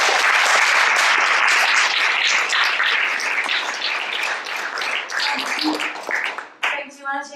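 An audience at Wellesley College gives a poet a full round of applause, loud dense clapping that gradually thins out before a voice starts speaking over the last scattered claps.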